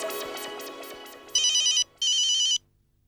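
A mobile phone ringtone in a Hindi comedy show: a bright melodic tune with rapid beeping notes, then two sustained loud electronic ring bursts, clear and close before falling silent.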